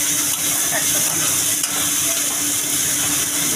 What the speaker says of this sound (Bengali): এখন ভালো করে রসুনটা ভেজে নিতে হবে যাতে কাঁচা রসুনের গন্ধ না হয়